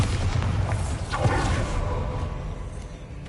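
A Bombarda spell blast in Hogwarts Legacy, heard as a dense, loud booming explosion with a rushing, crackling body that fades slowly over a few seconds.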